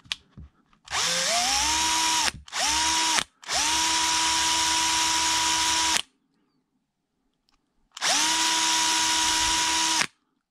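A small power drill with a dull 1.6 mm bit whines loudly in several bursts, spinning up and running steady, cleaning out holes in a steel bead lock wheel, with short pauses between runs.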